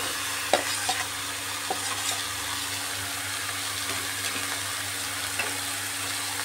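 Ridge gourd and fried potato sizzling in spice paste for an egg curry, a steady close frying hiss broken by occasional soft spoon stirs and scrapes, with no talking.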